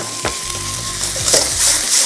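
Beef, carrot and green onion stir-frying in a wok with a loud, steady sizzle, punctuated by scraping stirs and a few metallic clinks, close up and without voices.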